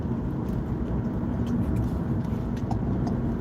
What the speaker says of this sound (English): I got a little traffic here coming around.